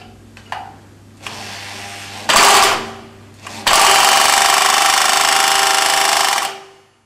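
A power drill turning the overhead cams of a six-stroke engine head whirs in short bursts, then runs in a long sustained whine before winding down, with faint mechanical clicks between bursts.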